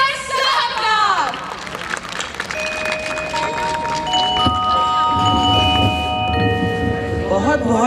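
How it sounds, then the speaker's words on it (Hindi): An audience at the DPS Jodhpur 2015-16 annual school function applauds to welcome Javed Akhtar, a steady, dense wash of clapping that lasts throughout, with sustained musical tones over it. "तो जोरदार तालियों से स्वागत कीजिए जावेद अख्तर साहब का"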